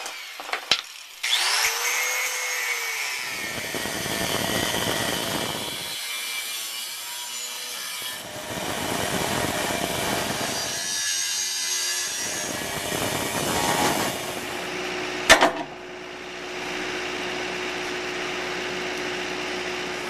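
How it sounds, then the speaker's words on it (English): A thin abrasive cut-off wheel grinds through metal in loud, sustained passes with brief pauses between cuts, ending in a sharp clank and a lower, steadier whir. "They're basically a very thin version of a grinding wheel. Let's take a look at some of the ways you can use this."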